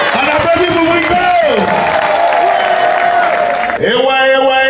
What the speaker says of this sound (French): On applaudit pour brico.